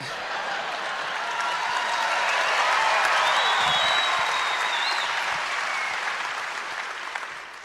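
A large audience in Atlanta applauds and cheers to welcome George W. Bush at a Medicare and Social Security event, a dense, steady wash of clapping that swells and holds, with scattered whoops and a faint whistle.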